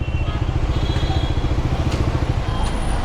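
A motorcycle engine runs steadily at close range while stopped at a traffic light, with a loud, even rhythmic putter and no talking.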